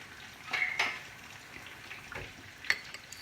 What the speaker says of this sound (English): So this time we're going to put the saffron water.